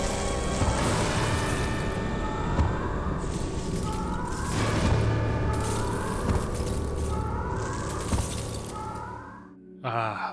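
Explosion in Resident Evil: Code Veronica X, a sustained, loud rumbling blast with shattering debris and repeated booming bursts across the whole stretch, then a sudden cutoff and a brief final rumble.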